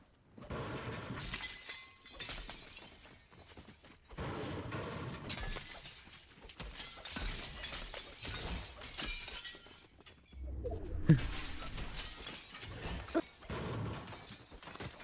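Glass in a video game being smashed with a pickaxe, repeated bright shattering crashes in rapid bursts over several seconds, loud against game background sound, with no talking.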